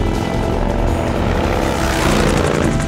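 A loud helicopter rotor in Metal Gear Solid 3 thrums steadily throughout, with dense engine roar and no voices.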